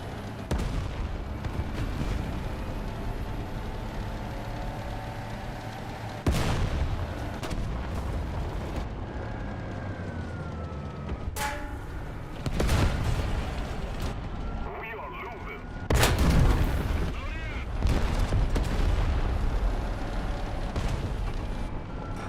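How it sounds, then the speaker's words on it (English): An Abrams tank in War Thunder fires HEAT-FS rounds, five or six heavy booming cannon blasts spaced several seconds apart over a rumbling engine and battle ambience. "What am I doing firing Heat FS in an Abrams?"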